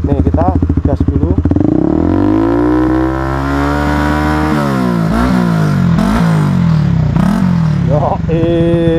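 A Honda CBR150R facelift with a Tridente carbon exhaust revs hard up close, the engine climbing, holding a loud steady drone, then dropping and blipping again in quick throttle stabs.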